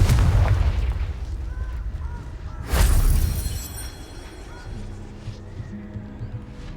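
Confringo blast spell smashing rocks in Hogwarts Legacy: rumbling explosive noise, then a sharp loud crack and boom near the middle, trailing into quieter debris and ambient hum.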